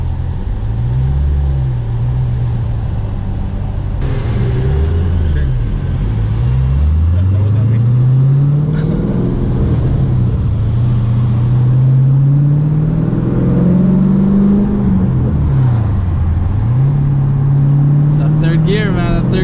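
A manual Dodge Challenger pulls hard through its gears, engine pitch climbing and dropping repeatedly with each shift, loud and close from inside the cabin, with occasional voices under the engine.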